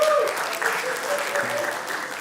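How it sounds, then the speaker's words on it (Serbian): Audience at a comedy show claps in a steady burst of applause that stays strong for a couple of seconds before tapering slightly. "jedan aplauz za odavde"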